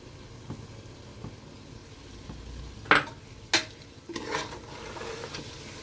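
A sweet mixture of powder, roasted dry fruits and ghee being stirred in a pan, with a few sharp scraping clanks of the spoon against the metal over a soft background hiss.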